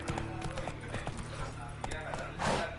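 Roach, the horse in The Witcher 3: Wild Hunt, gallops with a quick, steady clip-clop of hooves at moderate volume over a busy game soundscape.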